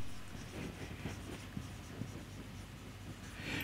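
A marker or chalk scratches across a board during an accounting lecture, with short strokes repeating steadily over a low room hum and no voice.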